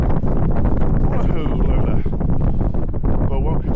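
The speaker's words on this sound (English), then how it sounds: "Welcome to a very chilly, windy and very snowy morning in Durness." Strong, gusting wind buffets the microphone on a chilly, snowy Highland morning in Durness, loud and continuous with a person speaking underneath.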